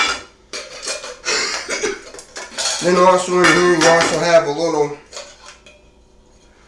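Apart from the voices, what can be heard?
handling Ozark Trail camping cooking pot and pan set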